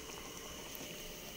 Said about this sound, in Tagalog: takpan na natin mga tol kasi kulong-kulo na siya